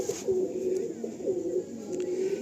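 Carrier pigeons coo in a steady run of low, rolling calls, repeating about three times at close range with no voices over them.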